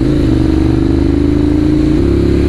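A Ducati Monster 795 motorcycle pulling hard to overtake, its engine loud and close with a steady throaty drone that steps up in pitch as it accelerates.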